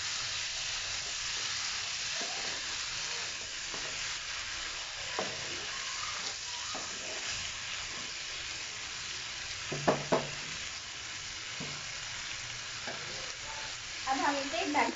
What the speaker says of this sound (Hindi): अब हम इसमें टमाटर डालेंगे, फिर हम इसे भूनेंगे।